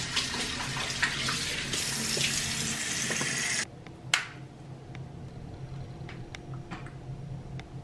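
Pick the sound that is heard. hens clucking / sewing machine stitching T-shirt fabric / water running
water running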